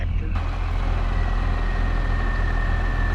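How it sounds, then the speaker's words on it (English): Tractor engine in a farming video game, a steady loud low rumble with a constant drone and a thin high whine running throughout. "back in the tractor."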